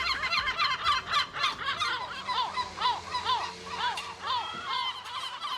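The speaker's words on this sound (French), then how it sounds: "Ceci n'est pas une mouette, c'est un goéland leucophée" A yellow-legged gull calls repeatedly in Marseille, a rhythmic series of loud, nasal, laughing cries in quick succession, fairly close and clear over faint background noise.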